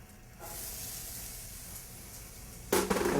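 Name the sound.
onions sauteing in butter in a pan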